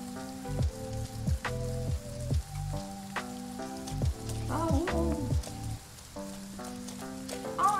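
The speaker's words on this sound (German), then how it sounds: "Oh, es regnet!" Rain falls steadily in the Farm Together farming game, a soft, continuous patter heard beneath plucked background game music, with no talking.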